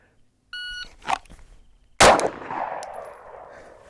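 A Glock 19 or Glock 26 pistol fires a single loud, sharp shot at a shooting range, preceded by a short electronic shot-timer beep and some handling rustle, with the report decaying into a lingering echo.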